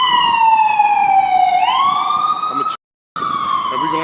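A loud emergency vehicle siren wails on a New York City street, its steady tone sliding downward and then back up, with a brief dropout near the end and no talk over it.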